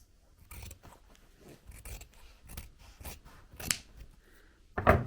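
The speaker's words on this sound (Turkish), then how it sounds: "Bir kez daha tırnak ütüsü çekip makas ile kesiyoruz." Scissors cutting through folded fabric, a series of short crisp snips and rustles, close and fairly quiet, no talking.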